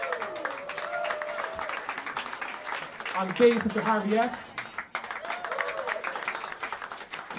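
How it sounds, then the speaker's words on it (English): Applause from a jazz club audience at Smalls in New York City, moderate and scattered, running beneath an announcer introducing the band's musicians. "Have a round of applause for him."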